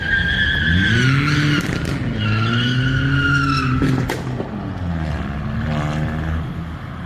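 A car driven recklessly on a road in the Bratislava–Mosonmagyaróvár area squeals its tires in long, loud, wavering skids that rise and fall across several seconds, with engine noise close by.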